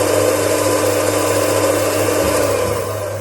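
An electric mixer whirs steadily and loudly through Christmas plum cake batter, holding one even motor drone that eases off slightly at the end.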